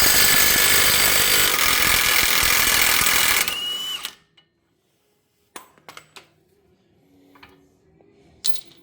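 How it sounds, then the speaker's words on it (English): An impact tool rattles loudly for several seconds while breaking loose a 32 mm car axle nut, then stops abruptly, followed by quieter scattered clicks and clanks of handling the tool and parts. "Let's take off this axle nut. This is a 32 millimeter."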